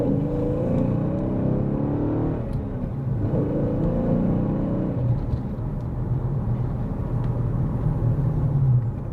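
A Hemi Dodge Challenger running a 93 octane tune drives on the road. A steady, low engine rumble fills the cabin with mild swells of acceleration and no talking.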